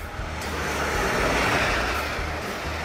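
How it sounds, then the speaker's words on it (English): A high-speed passenger train passing, a broad whooshing roar that swells toward the middle and eases off, loud and steady over a few seconds with no talk. "High-speed train."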